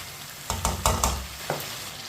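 Potatoes and tomatoes frying in a pan for aloo pulao, stirred with a spoon: a handful of short scraping, sizzling strokes close by, spaced irregularly against a faint background.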